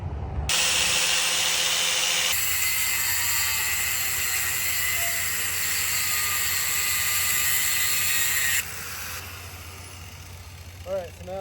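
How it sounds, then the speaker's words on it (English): A power tool runs steadily to clean the threads on the wheel lug studs of a Nissan 350Z, a loud continuous whir that cuts off near the end. "when you back this off, it's going to make the threads nice and clean, so that the lug nuts will go on and off the stud without getting bound up"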